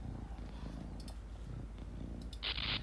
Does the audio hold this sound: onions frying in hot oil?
no